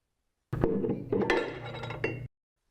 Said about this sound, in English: Press down on bar to remove the front outer ring and the inner ring and roller assembly.